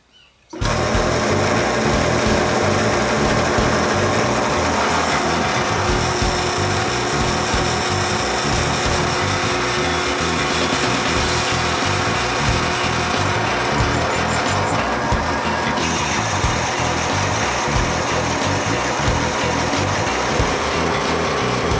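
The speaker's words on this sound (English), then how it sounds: "we're gonna see if we can punch a hole through this half inch plate" A loud, dense mechanical grind runs without a break as a tool works through half-inch steel plate lubricated with WD-40, starting abruptly after a moment of quiet and holding steady to the end, with no talk.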